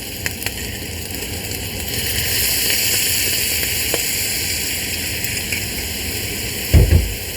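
Bolognese sauce in a pan being deglazed, sizzling and foaming steadily as a close, loud hiss with a brief clatter near the end.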